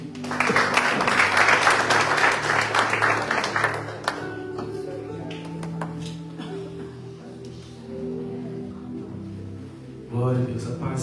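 A church congregation applauds during a teaching worship service, with a dense burst of loud clapping for about four seconds that then gives way to sustained tones and murmuring.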